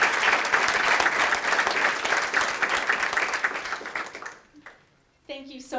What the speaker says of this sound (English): Please join me in applause for Amanda Nugent